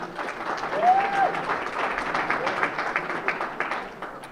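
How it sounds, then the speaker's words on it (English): Audience applause at an awards ceremony, a steady round of clapping from a crowd lasting several seconds, with a faint whistle early on and no speech. "We're just gonna have a round of applause for them."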